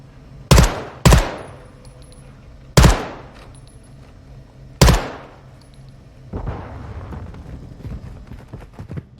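Pistol gunfire in a first-person shooter video game, four sharp loud single shots spaced about a second apart, followed by a rougher rumbling burst of noise.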